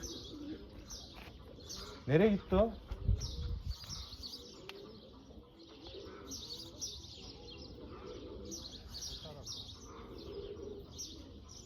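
Runaway pigeons fly overhead, with a brief burst of wingbeats and a few coos early on, then a faint outdoor hush with distant bird chirps, as people talk briefly.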